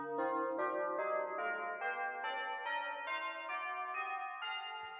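A keyboard's chimes preset plays a slow descending run of bright, ringing bell-like notes, about ten of them evenly spaced, each decaying into the next, clear and alone.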